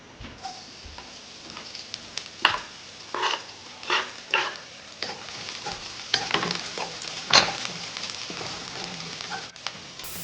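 Garlic fries in oil in a wok, a soft sizzle broken by scattered spatula scrapes and light clinks that come in uneven bursts.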